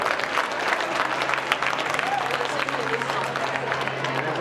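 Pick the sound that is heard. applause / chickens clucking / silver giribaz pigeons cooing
applause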